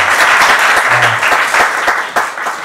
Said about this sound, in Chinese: 那先给他们一点掌声